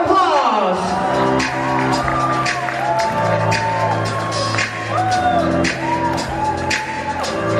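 Wedding reception guests cheer, whoop and shout in a lively crowd, with scattered clapping and raised voices layered over continuous background music.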